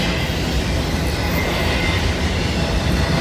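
A CSX freight train hauling loaded auto racks rolls past nearby: a loud, continuous rumble and roar of heavy wheels and cars, steady throughout with no pauses.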